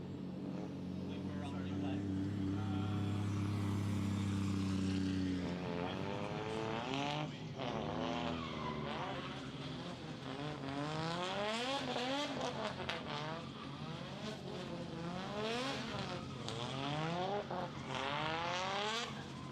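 A CA18-powered drift car on a competition grid slides with repeated swooping engine revs and tire squeal, under loud commentary and crowd noise.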